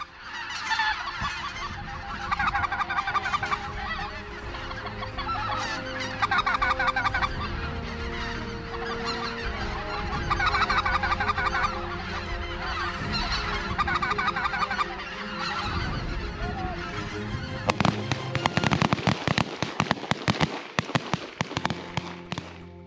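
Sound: thousands of geese honking

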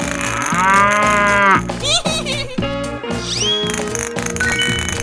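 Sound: cow mooing

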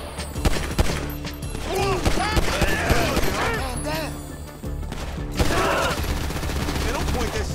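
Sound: gunfire in a GTA V video game shootout

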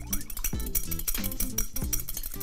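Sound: whisking an egg in a bowl

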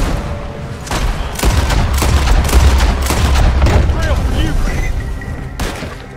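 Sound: gunshots in Red Dead Redemption 2 video game

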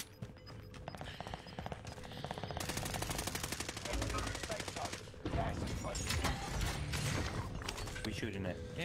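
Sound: gunfire in the video game Warzone

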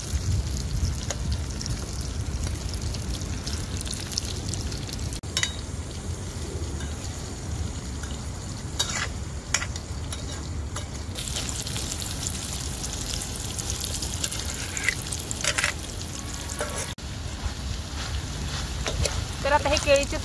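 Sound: raw banana pieces frying in oil

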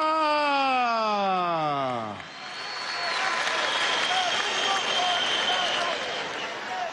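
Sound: applause for Supercilita

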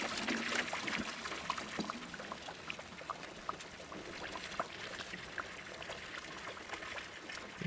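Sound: pouring beer into a container in Brewmaster video game

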